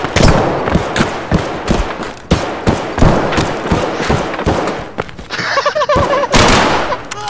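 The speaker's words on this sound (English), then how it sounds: "Oh my gosh, that was a player's gun." Rapid gunfire from another player's weapon in Escape From Tarkov's Factory map, loud close bursts of shots in quick irregular succession, echoing through the space with a short pause and brief voices mid-way.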